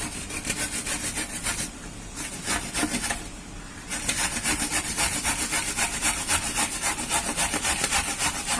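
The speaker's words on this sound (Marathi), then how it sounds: "हे बघा आपण आता किसणीने किसून घेऊ।" Fresh white coconut grated on a hand grater, a steady rasping scrape in quick rhythmic strokes, close and continuous with one brief pause.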